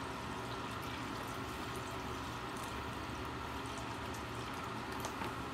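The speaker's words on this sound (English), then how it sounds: "I'm gonna fill this pot about halfway." Spring water pours from a gallon jug into a pot, a steady soft splashing and trickling stream running continuously and fairly quietly with no voices.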